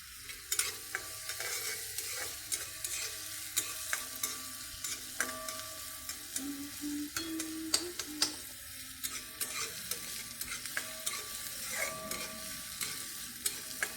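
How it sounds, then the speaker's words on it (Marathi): Onion frying and sizzling in a pan, with steady crackle broken by frequent spatula stirs and scrapes; no talking is heard. "मस्त आपल्याला हा कांदा लाल होऊन द्यायचा थोडासा"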